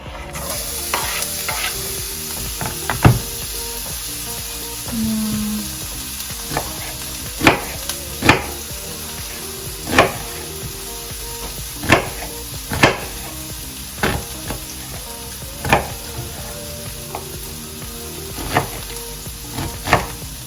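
Seafood pieces sizzle in a hot pan for a seafood pasta, with steady frying hiss and scattered sharp clinks and scrapes of a utensil stirring against the pan.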